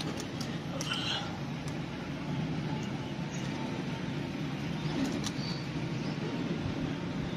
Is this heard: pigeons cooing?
yes